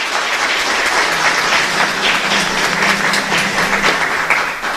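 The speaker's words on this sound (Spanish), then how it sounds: "un fuerte aplauso para ellos" A congregation claps for a visiting men's choir during Mass at a chapel in Ñemby, steady dense applause filling the whole stretch with no talk over it.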